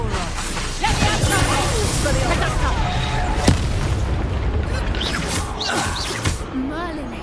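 A Confringo fire spell bursts in Hogwarts Legacy, with a sharp blast standing out above steady rumbling and crackling combat effects. Spoken voices run through the scene.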